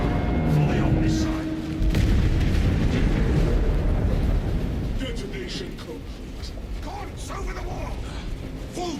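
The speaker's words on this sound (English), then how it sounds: "Detonate the charges now." Charges detonate in a Warhammer 40K video game, a loud sustained rumbling blast with creaking debris and scattered cracks that slowly fade, with a voice speaking over it.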